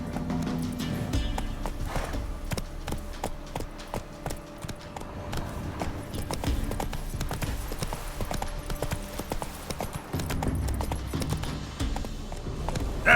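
Roach, the horse in The Witcher 3, gallops with a fast, steady clip-clop of hooves close by and fairly loud, the rhythm running continuously throughout with a faint low background underneath.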